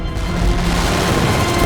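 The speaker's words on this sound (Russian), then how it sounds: "Мощный бортовой залп буквально разносит французский фрегат на куски." A British warship fires a cannon broadside at a French frigate: a sustained, loud roar of overlapping booms and crashing blasts fills the whole moment without pause.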